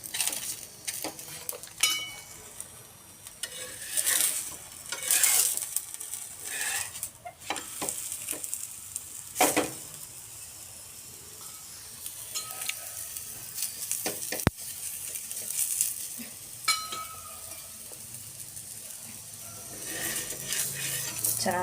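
Aloo paratha frying in oil on a hot pan, with a steady sizzle broken by sharp bursts of spatter and occasional clinks and scrapes of a spatula against the pan.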